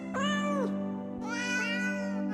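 Feral stray cats meow in two long, wavering, pitch-sliding calls separated by a short pause, loud and close over a steady low hum, with no talk.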